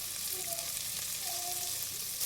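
Tomato frying with turmeric in a pan, a constant close crackling sizzle, with faint tonal whines briefly rising over it.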